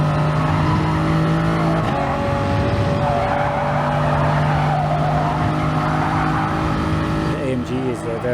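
A Group 3 race car in Gran Turismo Sport roars through a corner at Autodrome Lago Maggiore GP, its engine pitch shifting up and down along with some tire squeal, while someone talks over it throughout.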